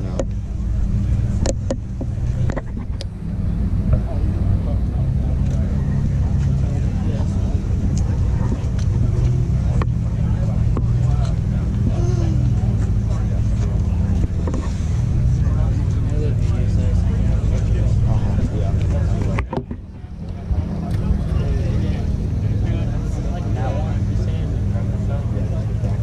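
A Ferrari engine rumbles with a deep, steady, close drone at a cars and coffee meet, briefly cutting out once, while someone talks over it.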